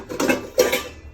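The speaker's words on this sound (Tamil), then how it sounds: "நாம இன்னொரு பாத்திரம் எடுத்துக்கலாம், சின்ன பாத்திரம்" A small metal cooking vessel is lifted and set about in a home kitchen, giving two close clanks with light scraping between them and no speech.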